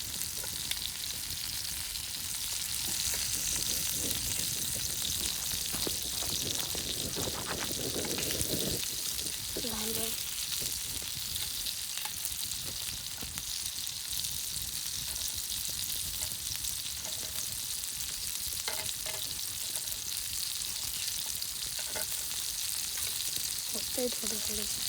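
Chicken frying in oil in a pan for a village-style chicken fry, a continuous loud sizzle with occasional clatters from turning pieces, voices talking intermittently over it.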